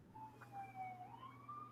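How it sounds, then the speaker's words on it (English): Emergency vehicle sirens wail faintly outdoors in the distance, one gliding siren tone rising and falling over a soft background hum. "The sirens."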